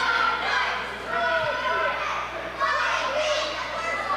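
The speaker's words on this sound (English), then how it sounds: "Crowd really giving it to Richards." A wrestling crowd jeers a wrestler named Richards, a dense wash of shouting and chanting voices that rises and falls in waves across the whole stretch, heard from within the arena.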